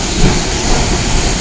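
Shakespeare Express steam train on the move near a tunnel, a loud dense rush of hissing steam and rolling rail noise, brief and continuous with no voices.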